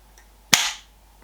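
Airsoft timed grenade going off after being thrown: a single sharp, loud bang that fades quickly into quiet, with only faint background noise before and after.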